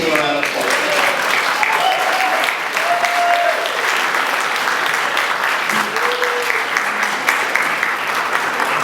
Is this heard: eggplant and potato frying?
no